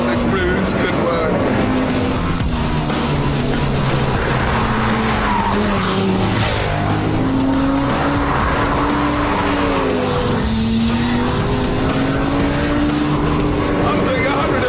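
A Lamborghini Gallardo Superleggera racing at around 150 mph, its engine holding a loud, steady high-speed roar with shifting pitch and brief tire squeal, under continuous talk.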